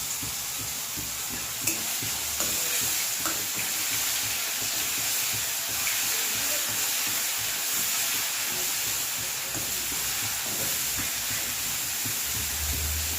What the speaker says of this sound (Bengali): দেখো তেলটা গরম হয়ে গেছে। আমি এখানে এই যে 1 চামচ রসুন দিয়ে দিলাম।